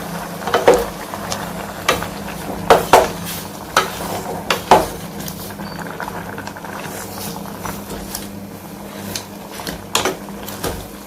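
Homemade tamarind paste cooks in a pan with a steady bubbling simmer, broken by intermittent stirring scrapes and light clinks of a utensil against the pot.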